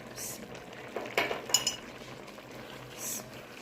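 A spoon stirs tomato stew with spices and cinnamon in a pot, making a few soft clinks and scrapes against the metal over a quiet simmering background, with two brief louder clatters near the middle.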